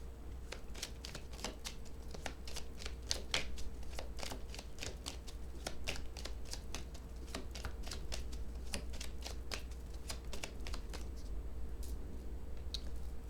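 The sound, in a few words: shuffling and drawing oracle cards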